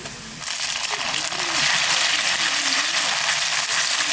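Chili paste sizzling and hissing in hot oil over reddened fried onions for a Bengali pomfret curry, a loud steady frying noise that picks up after a moment, with someone speaking over it.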